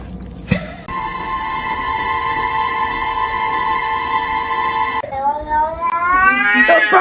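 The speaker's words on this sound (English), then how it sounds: "The cat got his fucking head stuck in the chair." A cat with its head stuck in a chair lets out a long, loud, sustained yowl, then shifts into rising, strained meows and caterwauling, close and insistent throughout.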